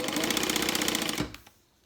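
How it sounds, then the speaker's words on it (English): Sewing machine top stitching along the edge of a handbag, a fast, even mechanical chatter heard close and loud, stopping abruptly after about a second with a couple of small clicks. "I'm just going to top stitch down each edge."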